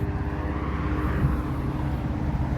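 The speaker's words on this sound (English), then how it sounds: "I see that helicopter. There it is, right up there." A helicopter flying overhead above a street walk from Westmount train station toward Place-Saint-Henri metro in Montreal, a steady low droning engine rumble holding at even loudness throughout.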